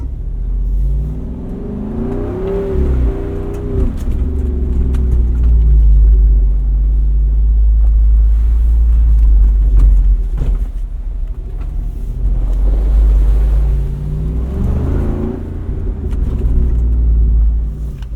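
A 2024 Jeep Wrangler Rubicon 392 Final Edition driving, its big V8 rumbling loud and close, revving up in surges and easing off, with no talk over it.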